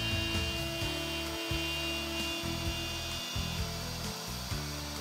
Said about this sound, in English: Make a smooth, steady pass to route the slot to depth to the opposite hole.